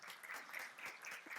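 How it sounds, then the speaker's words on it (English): Steady applause from a conference audience after a keynote, many hands clapping in a dense, continuous wash with no talking. "Round of applause for Linda"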